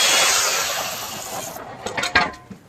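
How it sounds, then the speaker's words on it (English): Harsh, steady scrubbing of a wire brush on a rusted old hand truck, loud and close, shifting into a few rougher scraping strokes toward the end. "those tires spin like crazy when cleaning it out with the wire brush"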